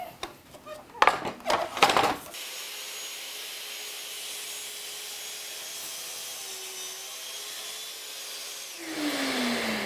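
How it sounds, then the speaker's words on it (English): A track saw cuts through a wood board for a puzzle board project, a steady loud whine running several seconds, after brief handling clatter at the start and rising toward the end as the blade finishes. "Now we can cut this with a jigsaw or we can use the track saw."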